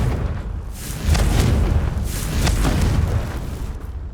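A spell blast from Confringo in Hogwarts Legacy, heard as heavy booming rumbles with a couple of sharper bursts, loud and sustained across the moment.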